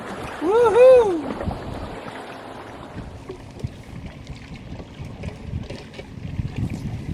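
Wind blowing across Patoka Lake around a fishing boat, a broad rushing and buffeting noise with gusty low rumble, following a loud vocal whoop at the start.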